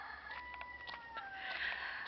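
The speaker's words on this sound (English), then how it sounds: "and there's a rooster." A single rooster crows at Trident Castle in Port Antonio, Jamaica, in a long, drawn-out call, fairly faint and somewhat distant, with no one talking.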